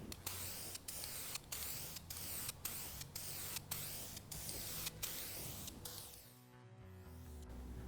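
Primer sealer sprays onto a car fender that has been taken down to bare metal. Repeated short bursts hiss in an even rhythm, each about half a second, close and clear, before they fade out near the end.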